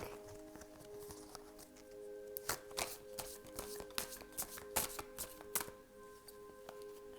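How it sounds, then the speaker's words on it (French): Tarot cards being drawn and handled at close range, a series of crisp, quiet taps and slides of card stock with a faint steady hum beneath and no talking. "j'ai oublié de tirer encore une carte ici"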